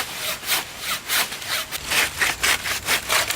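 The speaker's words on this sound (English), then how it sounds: "So I'm going to go ahead and just cut a section off right here." A hand saw cuts a section off a wooden log with steady back-and-forth rasping strokes, close and loud, roughly three strokes per second, with no talking.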